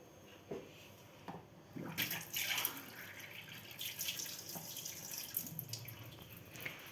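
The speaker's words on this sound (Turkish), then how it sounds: "Şuraya şöyle birazcık suyunu koyayım." Water is poured into flour to start kneading lahmacun dough, giving a soft, close splashing trickle with a few light knocks, fairly quiet throughout.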